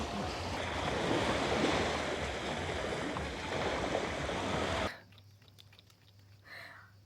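Evening waves washing up on a beach in Marche, Italy, as a loud, steady surf rush for about five seconds that then cuts to a quieter background with faint distant sounds.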